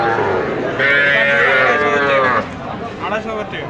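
A cow close by at a cattle market gives one long, loud, drawn-out moo, then the call fades into low background noise.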